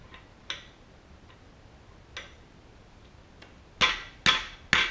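A few sharp metallic taps spaced apart, then three louder hammer strikes in quick succession near the end, tapping a cam bearing into a 1966 Ford Galaxie 500 engine, close by and otherwise quiet.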